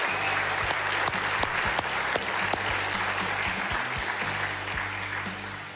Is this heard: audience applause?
yes